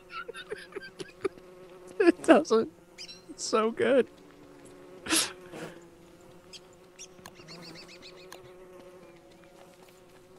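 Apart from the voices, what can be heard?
bees buzzing, attacking seeds, from a video game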